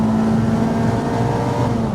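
A 2.0-litre Renault 5 Campus engine revving hard and continuously, a loud, sustained high-pitched scream held close throughout with no voices.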